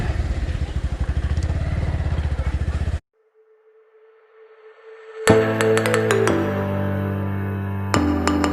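A motorcycle engine rumbles close by with a pulsing idle, cuts out abruptly, then after a quiet stretch restarts into a loud, steady running note with some clattering.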